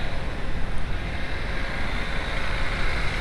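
A VW 1.8T four-cylinder engine holds a steady idle-up near 2,000 RPM with its big radiator fan disconnected, giving a continuous, even hum with broadband rushing noise and no speech.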